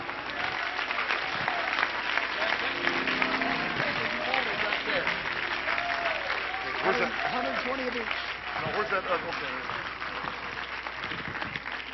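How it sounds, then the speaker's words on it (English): A church congregation claps along during an apostolic preaching service, steady applause mixed with voices and shouts over the whole stretch, at moderate loudness. "Would you clap your hands to Him?"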